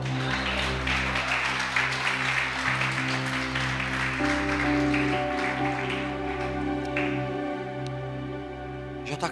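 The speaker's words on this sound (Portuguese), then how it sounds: "Você pode aplaudir o Senhor?" Congregation applauding the Lord during a Pentecostal church service, steady sustained clapping over a loud sustained musical backdrop of keyboard chords, with no pause across the whole stretch.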